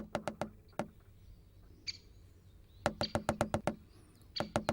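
A woodpecker drums in rapid bursts of sharp tapping, several quick volleys of knocks on wood with pauses between, over a faint outdoor background.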